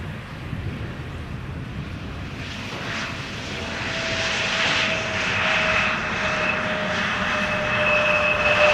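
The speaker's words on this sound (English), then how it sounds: "We have another Embraer 170 Britty Hopper coming in from Humberside, touching down as we speak" An Embraer 170 airliner touches down at Amsterdam Schiphol Airport, its jet engine roar steady and loud, building slightly toward the end with a high whine riding over broadband rumble and some wind noise.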